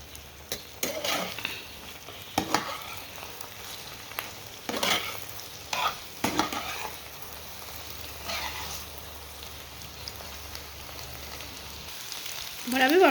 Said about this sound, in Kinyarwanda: Tugiye kuvanga, tugende tuvanga ku buryo bitari bufatane.